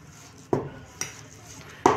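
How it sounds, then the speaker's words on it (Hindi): Boiled potatoes with garlic being mashed in a bowl with a utensil, three separate knocks of metal against the dish over a quiet background. "इसको हम कोई भी चीज़ जिससे आलू आपका सही से दब जाए इसको दबा लेंगे"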